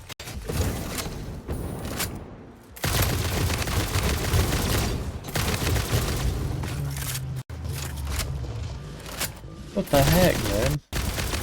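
Rapid bursts of gunfire from a weapon in the video game Satisfactory, loud and close, coming in several volleys with short breaks and a voice talking between them.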